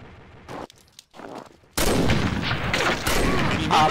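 Gunfire in the video game Combat Arms: a few sparse shots at first, then a loud sustained burst of rapid automatic fire that runs to the end.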